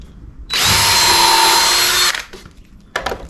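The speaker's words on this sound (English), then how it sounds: "pre-drill's the way to go" A power drill whirs steadily for about a second and a half as it pre-drills a hole in wood for homemade jack stands, then stops, followed by light knocks and handling noises.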